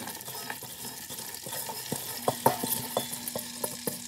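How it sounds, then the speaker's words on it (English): Chopped cabbage frying in bacon grease hisses with a steady, soft sizzle while a utensil stirs it, giving irregular scraping clicks and taps against the pan, close and moderately quiet with no voices. "And now I'm going to stir all of this up and try to get that cabbage coated with that bacon grease."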